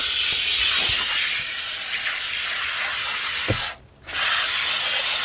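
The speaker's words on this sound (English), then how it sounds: "Okay, so I'm going to spray this into here." Spray foam insulation hisses steadily from a can onto a rim joist, a loud continuous spray that cuts out briefly for about half a second before resuming.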